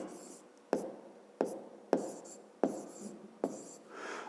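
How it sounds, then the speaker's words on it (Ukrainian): Pen strokes writing math figures on paper, a series of five or six distinct scratchy strokes each opening with a soft tap, close and quiet in a calm room. "Пишемо."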